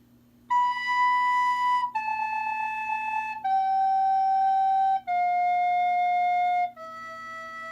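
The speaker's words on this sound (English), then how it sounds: "So watch me while I play it. You'll be able to hear it" A recorder plays a slow melody of five sustained, pure notes stepping downward, each held a second or more with brief breaks between, clear and close with no talk.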